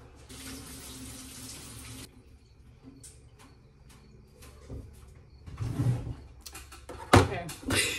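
Cucumber washed under a kitchen tap, water running from the faucet at first, then later splashing and handling noises around the sink.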